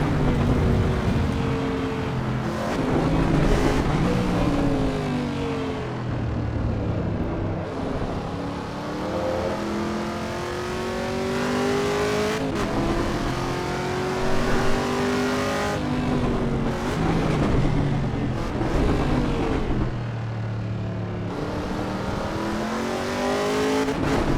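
Car engine in the Assetto Corsa EVO racing game, a manual-gearbox car lapping a track: a loud continuous engine note rising and falling through gear changes, revving up and easing off repeatedly, with no talk.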